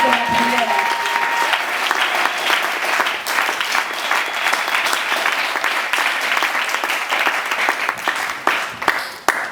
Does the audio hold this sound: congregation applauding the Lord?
yes